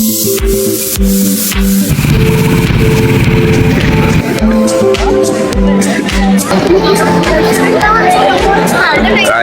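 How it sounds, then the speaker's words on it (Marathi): Dense crowd chatter at a university convocation ceremony in India, loud overlapping voices with a mechanical hum and clatter running underneath throughout. "गर्दी"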